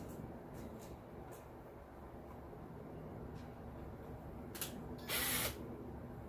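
A power drill drives screws into the housing of a Poulan Pro PBV200LE leaf blower during a rebuild, with a steady low whir, short ratcheting ticks and a brief louder high-pitched burst near the end.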